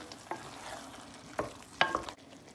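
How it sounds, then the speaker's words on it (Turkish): An eggplant dish seasoned with black pepper and chili flakes is stirred in a pot, producing faint, sparse spoon scrapes and a few soft clacks over a low background hiss, with no voices. "Şöyle bir karıştıralım."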